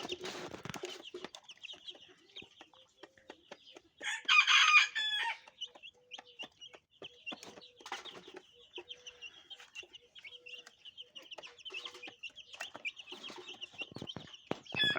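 Turkey poults eat feed in a village setting, with a steady stream of high, thin peeping and chirping close by and a brief louder burst of calls partway through.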